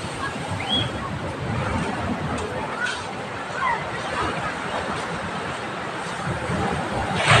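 Choppy sea waves wash and slosh steadily along the shore at a beach resort, with a constant rushing surf and faint chatter from people nearby.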